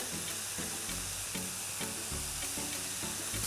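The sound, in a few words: garlic and oregano frying in a pan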